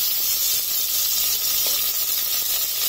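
Mixed vegetables and green chilli tipped into hot oil with cumin in a pressure cooker, giving a loud, continuous hissing sizzle that holds steady throughout, with no talk.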